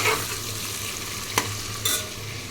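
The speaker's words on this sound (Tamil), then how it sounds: "ஒரு 2 பிரிஞ்சி இலை, வெங்காயம் போட்டுக்கலாம். வெங்காயம் நல்லா ப்ரௌன் கலரில் வரணும்" Onions and a couple of bay leaves fry in a pan with a steady, close sizzle, broken by a couple of brief scraping stirs.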